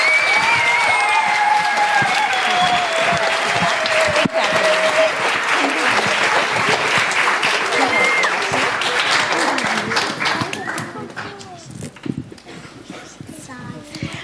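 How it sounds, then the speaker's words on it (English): Loud, sustained audience applause for fifth graders at a children's musical, dense clapping with cheers and whoops that carries steadily for most of the stretch before thinning out toward the end. "let's give a big round of applause for our 5th graders."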